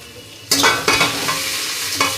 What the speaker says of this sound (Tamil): இப்போ இதை போட்டு நம்ம நல்லா ரசம் தாளிக்கிறதுக்கு பொரிச்சுக்கலாம்.